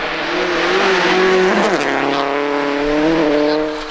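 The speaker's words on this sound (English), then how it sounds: "Just enjoy the ride on the bumper of the EnviroCare Subaru" A Subaru rally car races flat out on a park stage, its loud engine note holding steady, then dropping sharply as it shifts or lifts, before climbing again close by.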